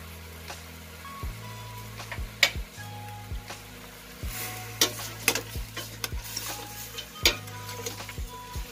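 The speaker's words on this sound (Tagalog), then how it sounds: "Ginigisa natin na walang gamit na mantika." Tomato and onion are sautéed in a pan with no oil for pork-rib sinigang, with a soft sizzle under repeated sharp scrapes and taps of a utensil against the pan.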